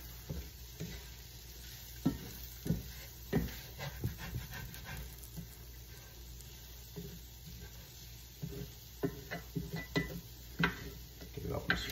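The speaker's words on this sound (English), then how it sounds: "Stir this in really good." Homemade granola mixture is stirred in a hot pan, with a quiet sizzle and irregular scraping strokes of a spatula, a voice briefly audible.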